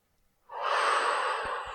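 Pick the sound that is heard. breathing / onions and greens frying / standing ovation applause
breathing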